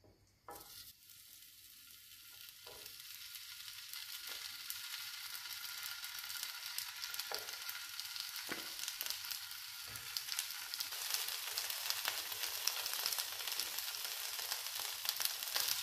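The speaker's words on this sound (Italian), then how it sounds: "E ora mettiamo le zucchine in padella." Zucchini hits an oiled pan and starts frying, an intense crackling sizzle that swells steadily louder, with a few scraping stirs and no voices.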